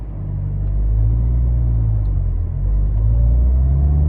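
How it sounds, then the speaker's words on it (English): A manual transmission car pulls away in gear, its engine giving a steady, loud, close low rumble that swells slightly as it drives on. "press in clutch, go to second, let on the clutch, and drive just like that"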